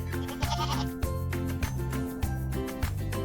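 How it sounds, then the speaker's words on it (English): Goat bleating in a children's counting song, each bleat rising above steady backing music in a repeating rhythm of about four calls. "Seven goats."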